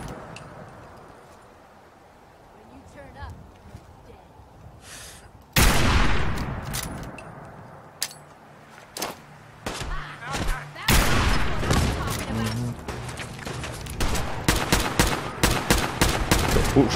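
Gunfire from a weapon in Fallout 4: quiet ambience at first, then a loud burst of shots followed by repeated sharp bursts and volleys, close and dense.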